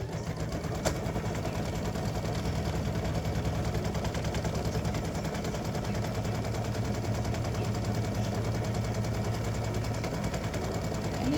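An embroidery machine stitches a seam on an in-the-hoop mug rug side panel, a fast continuous mechanical chatter with a low motor hum underneath that runs steadily and unbroken, close and even in level, with no talking.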